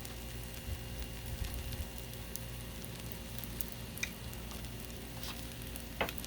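Shrimp fried rice sizzles on a Blackstone griddle in a steady, dense crackle, with the soft scrape and clatter of spatulas stirring and spreading it.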